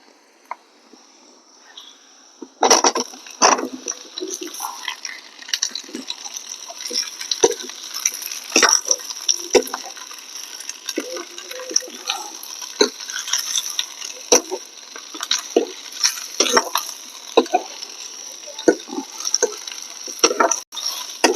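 Parwal (pointed gourd) goes into a pan of fried onion and green chili on a homemade stove. After a quiet start, a steady crackling sizzle takes over, scattered with sharp pops and spatters.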